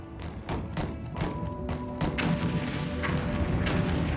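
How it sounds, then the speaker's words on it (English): A rapid volley of sharp, loud gunshots close by, bursting in quick succession over a sustained musical backdrop. "Suddenly, we heard gunfire very close by."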